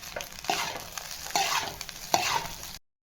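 Street-style egg fried rice with a spoon of chili powder being stirred in a hot pan, with repeated scraping strokes of a spatula over a continuous, close sizzle, then a sudden cut to silence.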